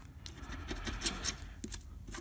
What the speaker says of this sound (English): This ticket is kind of hard to scratch.